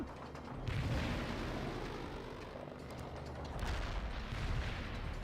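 Artillery barrage in World in Conflict (Soviet Assault campaign), with dense overlapping rumbling booms and blasts rolling continuously, swelling at the start and again near the end.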